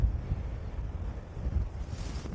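Strong wind on a golf course buffets the microphone as a constant low rumble and gusty roar, loud and close, with no voices.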